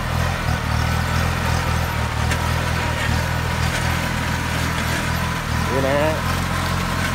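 A Kubota B2440S 24-horsepower tractor engine running with a large borrowed plough attached, a steady mid-pitched rumble throughout with someone speaking over it.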